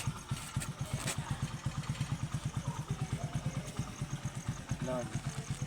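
A motorcycle engine idles with a steady, rapid low putter, close by, while a voice speaks briefly over it.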